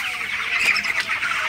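Broiler chickens in a farm shed at night, 21 days old, give off soft overlapping clucks and squawky calls, a busy flock murmur with one louder call rising briefly in the middle.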